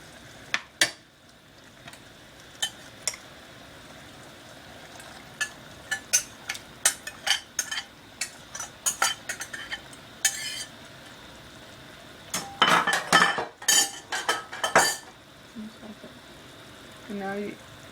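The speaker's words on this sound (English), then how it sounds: "So you stir it constantly to make sure that it doesn't stick to the bottom." A utensil stirs Haitian vegetable stew (legume) in a pot on low heat, producing bursts of scraping and clinking against the metal, irregular and close, that cluster more densely near the end.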